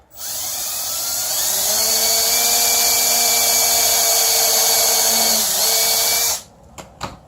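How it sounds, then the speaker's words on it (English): A power drill whines at high speed for about six seconds while pre-drilling a hole in wood, pitch dipping slightly near the end, then stops, followed by a couple of light knocks. "pre-drill first."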